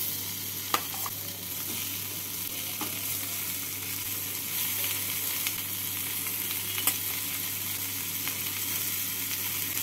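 Eggplant and potato stirred into cooked-down tomato and spice masala in a pan for a tangra fish curry, with a steady close sizzle and occasional scraping stir strokes throughout, no talking.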